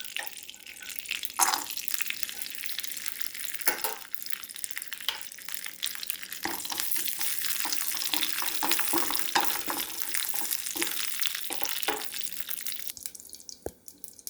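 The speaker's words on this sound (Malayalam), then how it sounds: "നമുക്ക് നെയ്യിൽ നമുക്ക് നട്ട്സും ഒക്കെ ഒന്ന് വറുത്തെടുക്കാം" Nuts sizzle in hot ghee for a banana payasam, a constant bright crackling hiss broken by occasional sharp clicks and scrapes of stirring, with no one talking.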